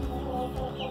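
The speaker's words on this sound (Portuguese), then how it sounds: "A Florzinha, que é essa galinha aqui, a mãe dela é uma polaquinha preta" A bantam hen, daughter of a black Polish hen, clucks softly and continuously in a farmyard, a close, steady murmur of low chuckling notes.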